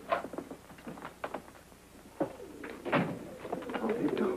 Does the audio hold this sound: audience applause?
no